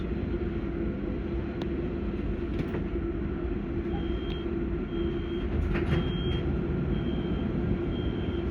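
Steady rolling rumble inside an Auckland Transport AM class electric train riding between Waitematā and Ōtāhuhu, with constant low wheel and motor noise and faint clicks and tones throughout.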